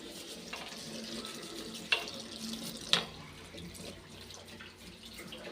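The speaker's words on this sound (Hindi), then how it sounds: "वॉश में धो रही है मम्मी" Water runs steadily from a tap while someone washes at home, a faint continuous splash broken by two brief clinks of dishes or utensils.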